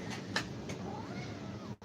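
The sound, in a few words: a cat meowing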